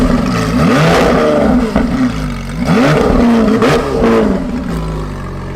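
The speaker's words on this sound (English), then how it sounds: "This sounds like no other Lamborghini in the world." Hybrid Lamborghini in sports mode revs hard, loud close engine notes rising and falling in several surges with a whirring electric-tinged tone between pulls.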